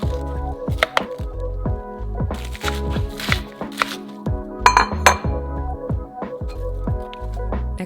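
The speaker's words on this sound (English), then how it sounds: "we're going to chop up our lettuce" A knife chops through lettuce on a cutting board for a salad, giving crisp, irregular thuds and crunches close by, with occasional light clinks between cuts.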